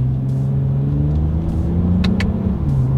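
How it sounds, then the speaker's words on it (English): A 2020 Toyota Avalon TRD accelerating from a rolling start with steady engine drone under road rumble, a brief quick double tick of gearshift paddles near the end. "Let's test out the paddle shifters here first and let's see how quickly they are going to react for us here."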